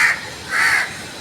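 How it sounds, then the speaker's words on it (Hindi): Crows cawing while being fed pieces of roti, two harsh caws in close succession, loud and near with no talking. "इतने सारे कौवे आ जाते हैं।"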